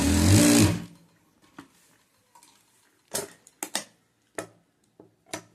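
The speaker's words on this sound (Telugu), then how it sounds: "అందుకనే ఒక స్టిచ్ ఇటు వేసుకోవాలి." A sewing machine makes a short loud burst of stitching on a plazo pant pocket, then falls quiet apart from scattered close clicks and taps of handling the fabric and machine.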